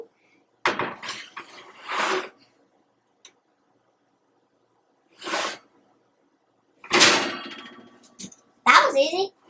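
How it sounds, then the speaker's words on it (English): Oven door opened and a churros baking tray slid onto the top rack in a home kitchen: a few separate metallic clangs and scrapes with quiet gaps between, close by, ending in a brighter rattling knock. "So I'm opening the oven, and then I'm going to be sliding it in on the top."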